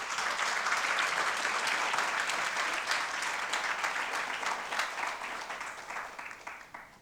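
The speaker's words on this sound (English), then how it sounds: "I think we can give him another round of applause," An audience at a film screening applauds the filmmaker with sustained, dense clapping that holds steady, then gradually fades toward the end.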